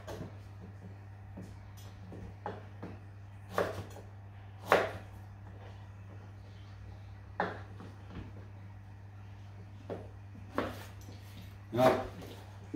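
A knife slices through pineapple on a cutting board, sounding as separate soft chopping thuds spaced a second or two apart over a steady low hum in a quiet kitchen.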